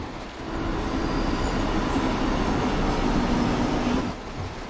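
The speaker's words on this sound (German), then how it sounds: "Der Regen ist so laut, Alter." Heavy rain in the train simulator game Train Sim World 2 makes a loud, steady hiss, with a faint tonal hum from a train running underneath.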